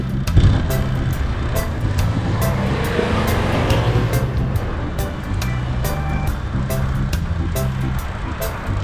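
Road traffic rushes past in a continuous roar, with cars passing close, a broad steady hiss and rumble and sharp ticking clicks throughout.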